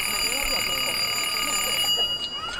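A mechanical meal-and-sleep clock at a Halloween stage show at Kolmården, a continuous loud ringing bell with a high shrill tone, stopping near the end, with a voice talking over it.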